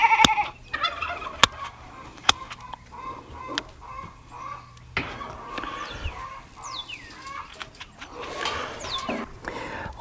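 A flock of fowl call and cluck continuously, with scattered sharp clicks and knocks nearby and a few louder honking squawks.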